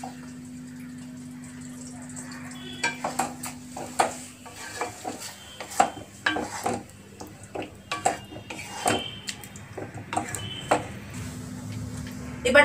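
Butter paneer curry with tomato sauce being stirred in a pan: a spoon scrapes and knocks against the metal in an irregular rhythm over a faint sizzle and a low steady hum.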